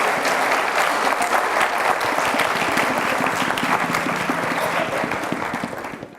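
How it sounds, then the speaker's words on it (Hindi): Loud, sustained applause from a crowd, dense clapping throughout that fades slightly at the very end. "थैंक यू वेरी मच, जोरदार तालियों से।"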